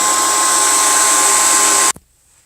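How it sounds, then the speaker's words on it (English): A loud, steady whoosh of a hair dryer running close by, then abruptly switched off, leaving near silence. "I'm going to use a hairdryer."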